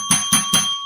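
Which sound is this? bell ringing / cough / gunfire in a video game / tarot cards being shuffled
bell ringing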